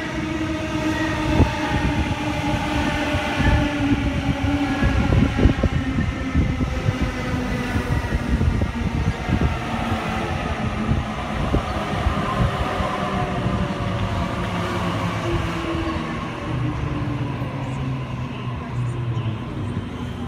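A Sydney Waratah electric train pulls into a station platform with a steady rumble and rail squeal, sounding its horn along the way as the carriages roll past close by. A voice is faintly audible under the noise.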